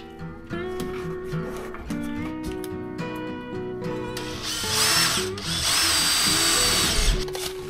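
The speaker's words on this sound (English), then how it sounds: "So we're gonna drill from the inside out." A power drill runs close by as it bores from the inside out through a building wall beside a girt. Its whining motor shifts in pitch and turns to a louder, harsher grinding partway through.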